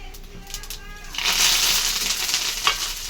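Curry leaves dropped into hot oil for tempering with dried red chillies, a sudden loud sizzling burst that swells and holds, preceded by a few light clinks and stirring.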